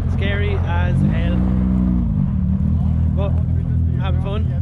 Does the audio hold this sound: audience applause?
no